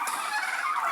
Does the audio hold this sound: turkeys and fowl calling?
yes